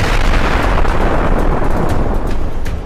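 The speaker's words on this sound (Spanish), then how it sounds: "El disparo le da a Fubuki, haciendo una gran onda expansiva en la arena." A powerful gunshot blast sends a shockwave across sand in an anime battle, heard as a loud, sustained rumbling roar that fades slightly toward the end, with no talk.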